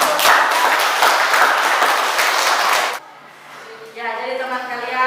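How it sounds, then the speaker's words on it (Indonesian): Students in a classroom burst into loud, dense applause that holds for about three seconds and then stops abruptly, leaving a quiet room where a voice starts to speak. "Ya, kita beri tepuk tangan"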